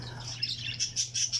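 A pet bird in a cage chirps in quick, bright bursts, several short tweets close by over a low steady hum.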